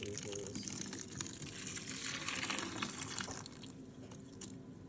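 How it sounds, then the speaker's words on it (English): Liquid from soaked willow bark pours in a steady, soft gushing stream into a horse's feed bucket, fairly quiet and continuous for several seconds. "I just pour it directly into his"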